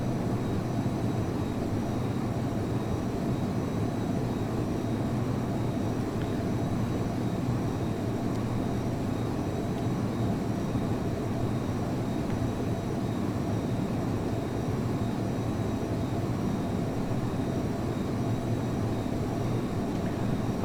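An F-22 Raptor jet cruises at about 400 knots in the Prepar3D flight simulator, giving a constant, loud, broadband engine roar that holds unchanged throughout.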